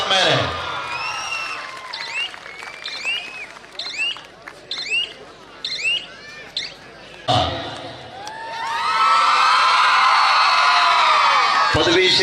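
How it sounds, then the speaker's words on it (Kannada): At a women's kabaddi semifinal, a crowd cheers for a Chikkodi team player. Whoops and shouts come in bursts, then rise into a long, loud swell of cheering and clapping, with voices mixed throughout. "ಒಂದು ಬಾರಿ ಜೋರು ಚಪ್ಪಾಳೆ ಬರಬೇಕು"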